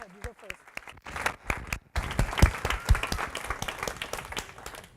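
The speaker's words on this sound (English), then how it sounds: "So please give them a big round of applause." Indoor audience at an evening faith gathering breaks into a big round of applause, a few scattered claps first, then a dense, steady burst of many hands; a voice talks briefly at the start.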